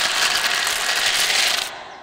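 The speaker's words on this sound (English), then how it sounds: "That was the cracking and crunching noise. It was the sound of the baby birds coming out of their eggs." Cartoon sound effect of baby birds cracking and crunching out of their eggshells, a dense continuous crackling ratchet-like clatter, close and steady for nearly two seconds before cutting off abruptly.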